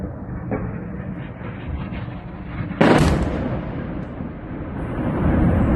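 A cluster missile explosion strikes Israel, a single loud broadband blast about halfway through that stands out over continuous rumbling noise and background commotion, with the crash decaying into a steady low roar afterward.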